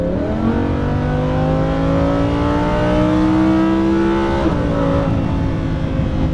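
A Lamborghini Huracan LP610-4 engine revs and accelerates, its loud, close tone climbing steadily through the gears with a brief dip at a shift before pulling higher again, no voices over it.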